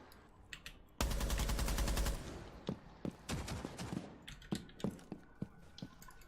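Rapid automatic gunfire in Rainbow Six Siege erupts in a loud two-second burst, followed by scattered single shots and sharp impacts, with no voices.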